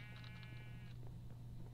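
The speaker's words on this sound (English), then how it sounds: "Is that the same blue sheep?" A blue sheep bleats in the Minecraft video game, one wavering tonal bleat lasting under a second over a low steady hum, followed by quiet background.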